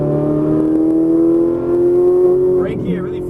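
A Ferrari 458 Italia engine, a 560 hp car, holds a steady rising tone as it accelerates on a racetrack, loud and continuous, with a brief shift in pitch near the end.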